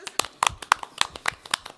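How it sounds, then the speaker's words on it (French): A small audience claps briefly for a guest at a local events show, a thin scatter of distinct hand claps in an irregular rhythm, close and fairly quiet, with talk mixed around them. "On applaudit la blablateuse."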